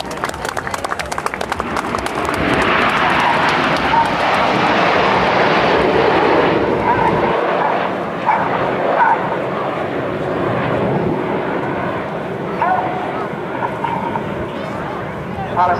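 RAF Red Arrows jets fly a formation display at the 2008 Rhode Island Air National Guard open house, with a loud sustained jet roar rising and fading overhead beneath an announcer's amplified commentary, with crowd noise around.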